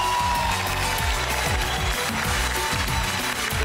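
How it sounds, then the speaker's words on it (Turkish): A studio audience at a television dance competition breaks into loud, sustained applause over booming music. "Alkışlarınızla kendi partnerimi davet etmek istiyorum."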